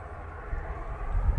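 A British Airways jet from Houston at Manchester Airport rumbles low and steady, its engine noise building slightly over a brief moment with no talk.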